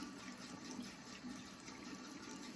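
A tap runs steadily into a sink during a morning skincare face wash, a continuous close, even rush of water with no voices.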